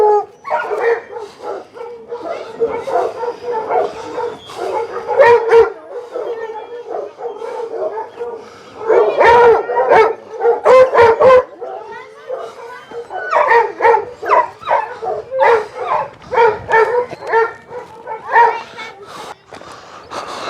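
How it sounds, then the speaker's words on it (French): A hunting dog barks and howls repeatedly, loud and close, in uneven bursts with yips and whimpers throughout, while people talk at the same time. "Un chien de chasse."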